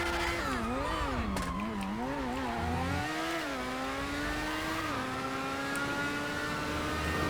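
A high-revving R88 car engine in GTA 5 holds a loud, steady whine that rises and falls through gear changes, then settles into a sustained drone.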